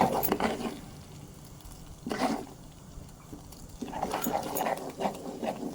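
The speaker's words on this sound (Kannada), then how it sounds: "ಈ ಥರ ಕೈ ಆಡಿಸ್ತಾ ಕೈ ಆಡಿಸ್ತಾ ತುಪ್ಪ ಮತ್ತು ಕಡಲೆ ಉರಿತಾ ಇರುವಾಗ" Gram flour (besan) roasting in ghee in a pan for laddu, stirred by hand: close scraping and rustling bursts come and go over a faint, steady sizzle.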